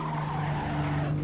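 Tires skid and squeal steadily as a front-engine, rear-wheel-drive race car fishtails in a video game, a sustained screech over a droning engine tone with no voices.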